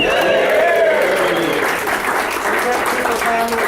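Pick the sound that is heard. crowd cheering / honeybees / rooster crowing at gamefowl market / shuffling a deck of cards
crowd cheering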